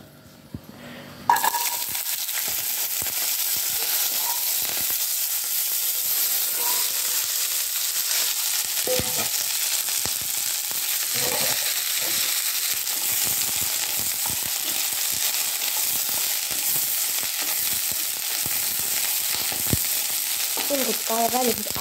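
Moong and potatoes fry in a hot pan with a loud, steady sizzle that starts abruptly and holds for about twenty seconds, with occasional spoon scrapes and clinks near the mic.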